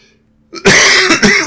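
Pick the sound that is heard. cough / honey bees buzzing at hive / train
cough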